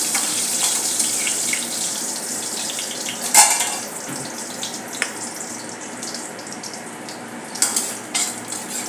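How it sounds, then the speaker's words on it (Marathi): Green moong vadi gravy sautéing in a pan, a steady soft sizzle with occasional sharper clinks of stirring, close and alone without any voices. "अशा प्रकारे चांगले परतून घेऊया"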